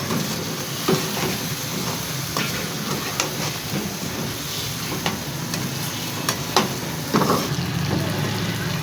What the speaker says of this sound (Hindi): फ्लेम को तेज़ आगी रखना है ताकि मसाला अच्छे से भून जाए।